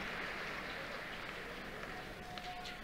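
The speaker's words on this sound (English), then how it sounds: "there's a round of applause" Steady applause from a large crowd at an NBL Canada basketball game, a continuous wash of clapping that holds evenly from start to finish.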